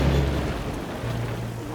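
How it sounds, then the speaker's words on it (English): Rain pours steadily in a Thomas & Friends cartoon scene, a dense, even hiss of falling water with low rumbling beneath, steady throughout and with no talk. "Gotta get them out of this rain."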